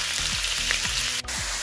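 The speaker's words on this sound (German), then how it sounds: "Und nun kommt unser Fleisch rein. Das werden wir jetzt für 2-3 Minuten ganz scharf anbraten." Beef seared in a very hot pan, a steady loud sizzle and crackle with the sound of stirring and scraping at regular intervals.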